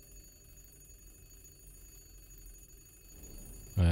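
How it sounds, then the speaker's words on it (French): A telephone ringing inside the puzzle video game The Room 3 sounds as a loud electronic ring bursting in near the end, after a quiet stretch of low background hum and room tone. "Ouais, c'est le téléphone qui sonne."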